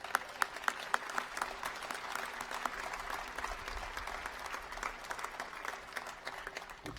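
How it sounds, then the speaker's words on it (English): An audience applauds the legislature at the Wyoming State Capitol open house celebration, steady sustained clapping from a crowd in a large room, fairly distant and even throughout. "Let's give the legislature a round of applause."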